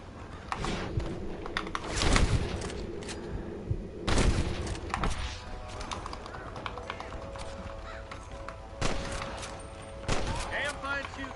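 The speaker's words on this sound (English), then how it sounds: "I can hear more gunshots." Gunfire in the Red Dead Redemption video game: several sharp shots ring out in bursts among galloping hooves and rumbling action, with voices talking over the scene.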